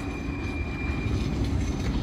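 A Blackpool tram, number 7, passing along the bottom of Talbot Road near North Pier, heard as a steady, loud, close rumble of wheels on rail with a faint high whine.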